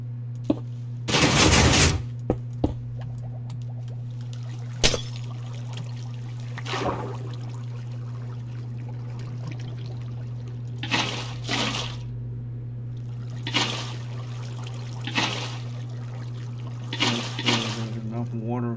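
Water gushes and trickles in Minecraft over a constant low hum, coming in short splashing bursts with quiet gaps between, one louder rush early and several softer ones later.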